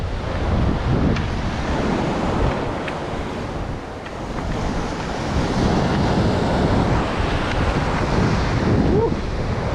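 Ocean surf breaks steadily on an Australian shore in winter, with a constant roar of waves and heavy wind buffeting the microphone, loud and unbroken throughout.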